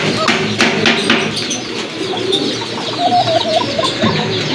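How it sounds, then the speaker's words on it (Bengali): A female pigeon coos on its own, soft repeated throaty calls close by, with other birds calling and chirping in the background throughout. "এটা কিন্তু নিজে থেকে ডাকতেছে এটা হচ্ছে আপনার মাদি কবুতর"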